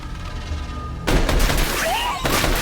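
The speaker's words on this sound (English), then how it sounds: "So how does Quaritch respond? Shoot that animal" Film gunfire from Avatar: The Way of Water breaks in abruptly as a loud, dense burst over a rumbling soundtrack, with a second sharp blast near the end.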